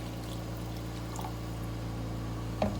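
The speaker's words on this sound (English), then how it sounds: "to that, I'm going to add another cup of water." A cup of water is poured into a pot of Spanish-style chicken and rice, a soft steady pour under a constant low kitchen hum, ending in a brief splash with no talking.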